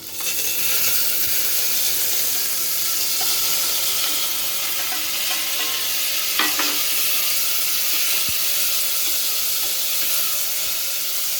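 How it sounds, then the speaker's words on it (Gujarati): A spoon scrapes and stirs through rajma rice with vegetables, cashews and cinnamon as it cooks in a pot, over a steady sizzle and hiss that runs without pause. "ફાઈવ ટુ 10 મિનિટ આવી રીતે ચલાવવાનું અને થોડીક વાર ચડવા દેવાનું"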